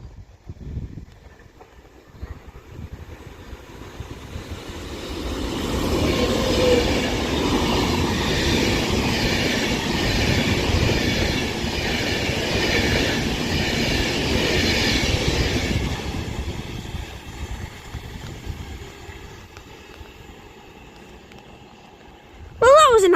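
An Avanti West Coast Class 390 Pendolino passes through West Allerton station on the West Coast Main Line, swelling from a distant rumble to a loud rolling roar with clattering wheels, then fading away, with a voice near the end.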